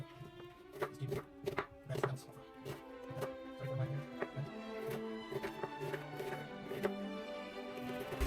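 A very sharp knife chops an onion into big chunks on a board for a Transylvanian vegetarian soup: a run of crisp, fairly regular cutting strokes, close and moderately quiet, with no talking.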